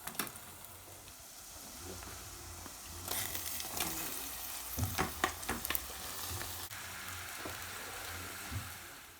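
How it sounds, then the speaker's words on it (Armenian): Onion and beans fry in butter and oil in a pan with a steady soft sizzle, broken by a few light scrapes and stirring clicks, fairly quiet and close with no talking. "սոխը տապակում եմ մի թեթև եւ վրան ավելացնելու եմ լոբին։"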